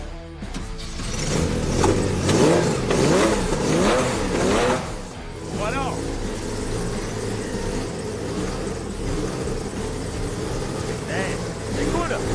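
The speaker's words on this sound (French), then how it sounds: "entendre vrombir le 6 cylindres à plat de 2994 cm3" Porsche 911 Groupe 4 with a 2994 cc flat-six, cranking and firing up with loud revs, then settling into a steady rumbling idle, while someone speaks briefly over it.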